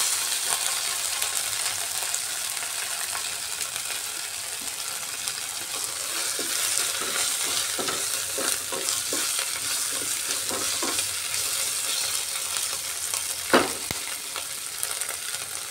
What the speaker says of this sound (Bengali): জিঞ্জার গার্লিক পেস্টটা দিয়ে একটু ভাজা ভাজা করে নিচ্ছি